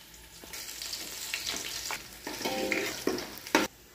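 Crushed garlic dropped into hot oil in a pan, a steady close sizzle with stirring scrapes and rustles, rising and crackling toward the end.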